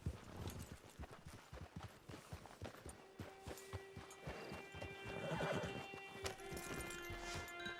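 Clip-clopping hooves of a horse in the Red Dead Redemption 2 video game, steady footfalls up close followed by a whinny, with ambient music swelling behind and no talk over it.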